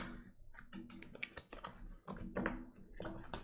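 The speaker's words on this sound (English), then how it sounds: "These doggone cards don't want to shuffle first thing in the morning." Tarot cards are shuffled by hand at close range, giving quick bursts of crisp clicking and flapping, uneven in rhythm, with brief pauses between riffles.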